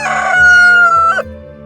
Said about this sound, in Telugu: అప్పట్లో పల్లెటూర్లలో కోడిపుంజు అరవగానే